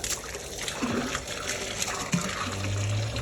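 Water pours steadily from a pipe into a cattle drinking trough on a farm, a close, continuous gushing and splashing that holds throughout with no voices.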